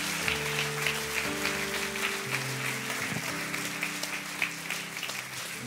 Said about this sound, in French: que ceux qui le croient applaudissent bien fort